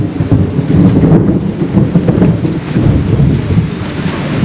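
Thunderstorm at night with steady rain and wind buffeting the microphone, a dense continuous low rumble filling the whole stretch with no voices.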